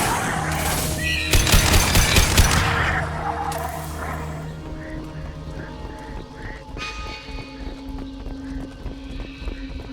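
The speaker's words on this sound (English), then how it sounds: "Firing a high-impact shot." A high-impact shot from a weapon in Mass Effect 2 sounds as a loud, dense burst of cracking blasts in the first few seconds, then fades into a lower rumble of game ambience and machinery.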